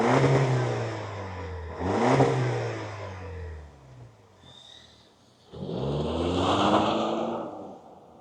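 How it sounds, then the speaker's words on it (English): A 2026 Toyota 4Runner with a turbocharged four-cylinder engine, revved loudly three times with short pauses between, close and clear, each burst rising and falling off to a quieter idle. "let's fire it up and see it roll"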